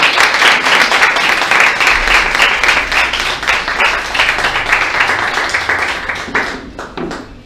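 A church congregation claps in steady applause at a morning service, loud and close, with dense rapid hand claps that thin out near the end.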